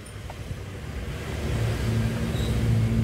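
A small toy remote control VW Beetle car with a plastic body, running on three batteries, gives off a steady motor whir that rises slightly in level and holds a faint tonal hum toward the end.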